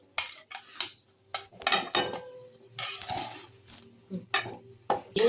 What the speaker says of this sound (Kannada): ಇವಾಗ ಇದಕ್ಕೆ ಮಾಡಿಟ್ಕೊಂಡಿರುವಂತಹ ರೈಸನ್ನು ಸೇರಿಸಿ ಮಿಕ್ಸ್ ಮಾಡ್ತಾ ಇದ್ದೀನಿ